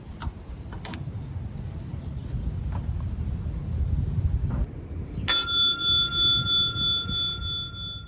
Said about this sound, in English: I wanted to add a little bell to my bike.